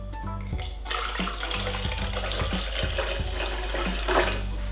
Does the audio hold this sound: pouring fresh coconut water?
yes